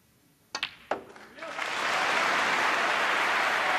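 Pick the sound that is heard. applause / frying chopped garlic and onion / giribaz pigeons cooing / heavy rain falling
applause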